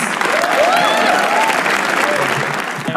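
A comedy roast audience bursts into loud, dense applause with scattered cheers at the end of a set, a continuous wash of clapping that holds steady for a few seconds.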